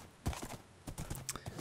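Minecraft horse hooves trot in soft, irregular clip-clop steps, fairly quiet and near, with a few scattered clicks over faint background noise.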